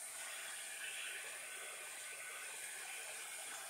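A hair dryer runs steadily and close by, drying a wet paper page, with a constant broadband whoosh and hiss that holds level for the whole stretch, with no talking.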